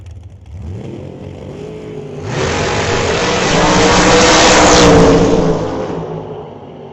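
A Chevrolet Beretta and another drag car launch down the strip at a bracket race, engines swelling from a low rumble into a loud, roaring rush that peaks and then fades as they pull away.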